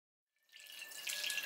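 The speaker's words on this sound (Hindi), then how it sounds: "और इसमें हम पानी डाल देंगे।" Water pours into a pressure cooker readied as a steamer for making suji dhokla, a steady splashing stream that starts after a short silence and grows slightly louder, faint and without talking.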